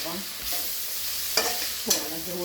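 Ginger garlic paste fries in a pan while a spoon stirs it, a close sizzle broken by a few sharp scrapes and clinks against the metal, with no voices.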